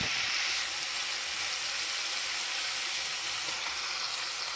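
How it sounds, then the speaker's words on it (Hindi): Ground tomatoes added to fried masala in a hot pan give off a steady, even sizzle and hiss that holds at a constant moderate level for several seconds. "अब इसमें हम डाल रहे हैं पिसे हुए टमाटर।"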